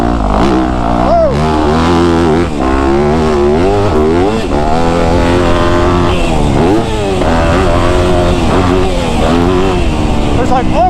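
Motocross dirt bike engine revving hard and easing off while riding over a bumpy track with holes, loud and close throughout, pitch climbing and dropping with acceleration and braking.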